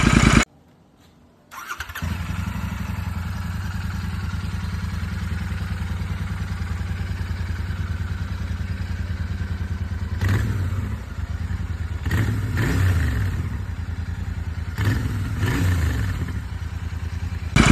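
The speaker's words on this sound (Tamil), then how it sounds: "ஸோ நார்மல் எக்ஸாஸ்டோட பீட்டு வந்து நான் போட்டு காட்டுறேன். லைக் ரைஸ் பண்ணுறப்பவும் சரி, ஐடில்லையும் சரி." A Royal Enfield GT 650 motorcycle on its stock exhaust cranks and fires up, then settles into a steady, loud idle close by, broken by several sharp throttle blips that rev the engine up and back down.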